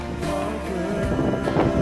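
Strong wind gusting across a mountaintop, a steady loud rush of buffeting air against the microphone with slight surges, no voices.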